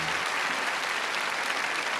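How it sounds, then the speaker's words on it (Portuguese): A church congregation at a Catholic Mass applauds in a steady, dense wash of many hands clapping together, even and continuous through the short stretch. "não dá uma salva de palmas para Jesus?"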